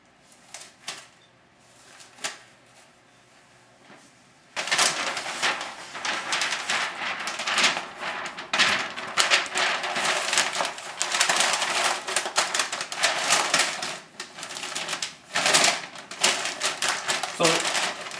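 Butcher paper for wrapping a barbecued brisket is handled: a few soft clicks first, then a long run of loud crinkling, rustling and tearing bursts, with a voice occasionally speaking.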